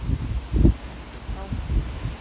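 Cold autumn wind gusts through trees in rural northeastern Thailand, stirring green and yellowing leaves, heard as several low, rumbling bursts of wind and rustle close to the microphone.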